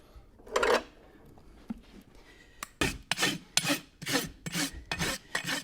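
A metal burr being filed off the underside of a nailed and riveted piece, heard as several loud, rhythmic rasping strokes close by after a few quieter scrapes, with no talking.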